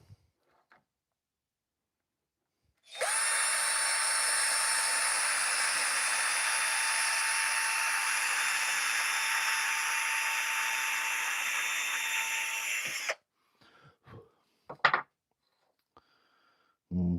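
A power drill bores a hole in wood for woodcarving, a loud steady whine running about ten seconds before cutting off, followed by a few brief clicks and knocks in otherwise quiet surroundings.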